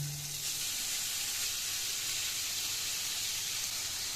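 Marinated chicken pieces frying in a little ghee or butter in a pan, giving a continuous, even hiss and sizzle close by, moderately loud and steady throughout, with no talk.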